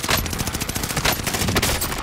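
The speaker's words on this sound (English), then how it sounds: "I hear shooting back there." Dense, continuous automatic gunfire from Call of Duty: Modern Warfare, rapid overlapping shots forming a loud, sustained fusillade throughout with no pauses.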